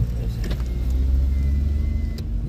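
A car pulls up close by, its engine rumbling low and steady with a few faint clicks and rattles, with no one talking over it.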